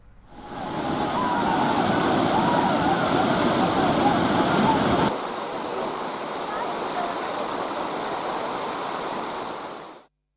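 Hogenakkal waterfall in Dharmapuri pours in a steady, loud, broadband roar of rushing water, holding constant throughout with a slight drop in level midway, with no other sounds standing out.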